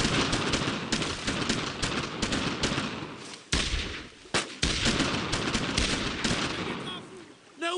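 Dense World War II battlefield gunfire in Brothers In Arms: Road To Hill 30, rapid loud rifle and machine-gun bursts crackling almost continuously with brief gaps, shouted voices mixed in.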